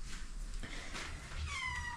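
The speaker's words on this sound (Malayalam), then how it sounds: "പൂച്ചാസ്," A cat gives a single drawn-out meow toward the end, close by and moderately loud over low background noise.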